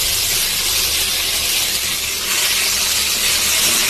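Food fries steadily in oil in a covered pan over low heat, a continuous loud sizzling hiss with no talk.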